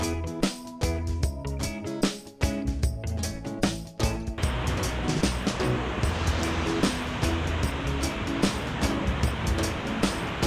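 Sea waves wash onto a private beach behind a resort at Royal Cliff in Pattaya, heard close by as a steady surf rush, with clattering and knocking noises over it for the first few seconds.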